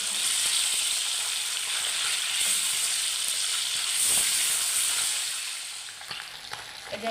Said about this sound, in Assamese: এতিয়া আমি মাছটো ফ্ৰাই হ'বৰ কাৰণে দি আছোঁ